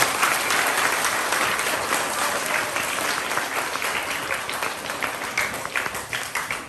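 A school hall audience gives a presentation day round of applause for two award-winning students. The dense clapping is steady at first and thins into more distinct individual claps as it tapers toward the end.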